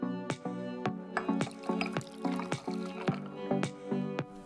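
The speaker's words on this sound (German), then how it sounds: "Den Zucker kurz in Kaffee auflösen und dann über die Eiswürfel gießen." Sweetened espresso poured over ice cubes for a Greek freddo, with clinking ice and liquid splashes in an uneven series of sharp close taps and trickles, no talking.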